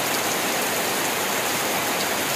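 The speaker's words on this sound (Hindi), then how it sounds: "पूरा बारिश आ गया ना" Steady downpour of heavy rain over a market, a thick unbroken rushing hiss of water with no voices.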